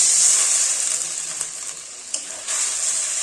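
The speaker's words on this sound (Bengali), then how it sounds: "এখন খুব ভালো করে মশলাটাকে কষিয়ে নেব।" Spice paste with ground cumin and chilli powder frying in a pan, a bright continuous sizzle with a few sharp scraping stir strokes, close and loud, no voices.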